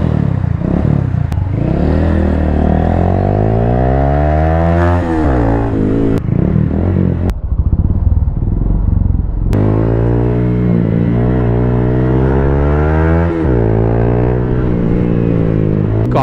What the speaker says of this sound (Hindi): अभी इसको लेके चलते हैं छोटी सी राइड पे और देखते हैं कि भाई कितनी लाउड हो